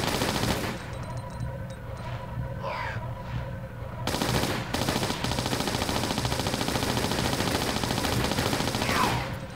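Uzi fire rattles in Tomb Raider IV: The Last Revelation in Cleopatra's Palace, long sustained bursts of rapid shots that briefly pause and then resume, loud and close.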